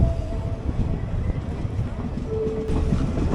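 A DEMU train pulling into Thiruthuraipoondi junction on the Karaikudi–Thiruvarur line, heard from on board as a steady rumble with faint wheel clatter and a brief high tone near the end.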